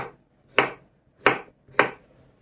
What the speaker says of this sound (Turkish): İsterseniz sebzeleri bu şekilde iri iri de doğrayabilirsiniz